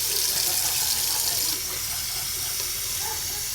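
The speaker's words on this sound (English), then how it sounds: "add a cup of water." A cup of water poured into a pot of black-eyed peas cooking on a stove over medium heat, a steady splashing rush that drops slightly in level halfway through and continues as a softer flow.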